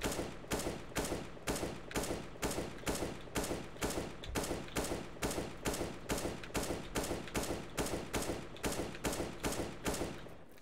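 Rapid gunfire from Counter-Strike (CSGO), a steady run of about twenty evenly spaced loud shots over ten seconds, each sharp crack followed by a short tail, with no talk.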